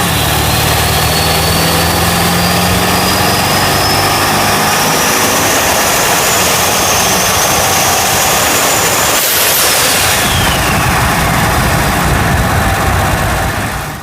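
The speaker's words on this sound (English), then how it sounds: "we can kind of pick up some of the sounds, you know, that the turbos are making and the intake and everything like that" Turbocharged engine running under the hood, with turbo whine and intake noise; a loud, steady engine drone with a rising whistle that holds throughout and a brief sweeping whoosh near the end.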